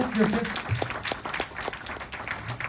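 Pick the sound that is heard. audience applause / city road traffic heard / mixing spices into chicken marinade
audience applause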